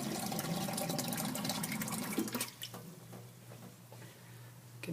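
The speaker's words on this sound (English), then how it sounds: "Let me get some water here." Water poured from a tap or container for a classroom density experiment, a steady bright splashing fill for about two seconds that then stops, leaving quiet room tone with faint drips and small handling knocks.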